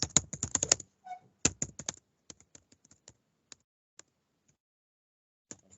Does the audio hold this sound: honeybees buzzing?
no